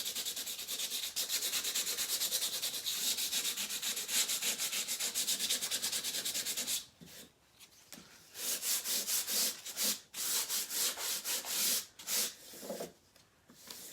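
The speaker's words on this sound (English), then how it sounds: "I'm gonna rub some of that off." Chalk paint being rubbed off a wooden surface to give a worn look, heard as steady rasping scrubs, continuous at first and then breaking into short rhythmic back-and-forth strokes, close and fairly quiet.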